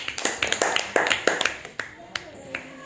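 Children in a classroom clap in a brisk, uneven burst of close, sharp claps that gradually trails off.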